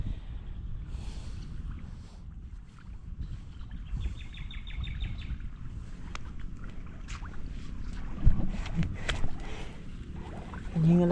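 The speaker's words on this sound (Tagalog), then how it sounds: "Yun na lang yung tutubigan itong makina." A small engine-driven water pump irrigating a bitter gourd field runs as a steady, close, low motor drone that holds throughout, with a few faint bird calls in the background.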